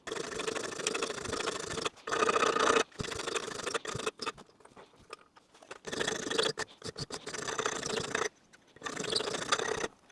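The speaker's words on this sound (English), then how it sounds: "it's just something about knowing how to use a file properly" A hand file rasps over metal while an edge is rounded off, in bursts of steady scraping strokes separated by short pauses, close and fairly quiet.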